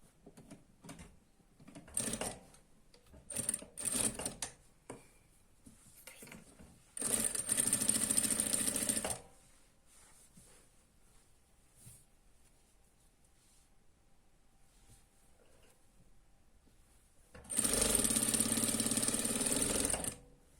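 Sewing machine stitching folded velvet fabric during garment making, heard in two sustained bursts of a couple of seconds each, separated by quieter pauses with faint handling sounds.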